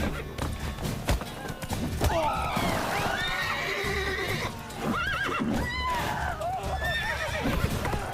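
Horse in The Witcher 3: Wild Hunt video game during a fight, loud repeated neighs and whinnies over a clip-clop of hooves and thuds, mixed with game combat noise and voices.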